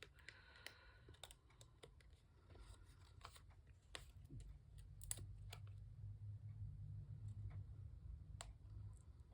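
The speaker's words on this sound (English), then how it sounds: "There's a little piece overhanging the top," Scissors snip off a small overhanging piece of paper on a craft pocket, giving a series of quiet, close, sharp clicks and cuts spread over the stretch with no talking.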